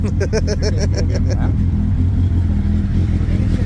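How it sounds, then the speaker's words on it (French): A motorcycle engine rumbles loudly and steadily at close range, with a burst of rapid rhythmic revving at the start settling into a deep continuous idle growl. Voices talk over it. "je démarre ma moto et je vais la faire un peu gueuler"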